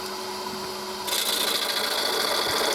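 A wood lathe turns a spalted hazel blank while a roughing gouge hogs off material, a steady whirring hum with a brighter, hissing cutting noise joining partway through.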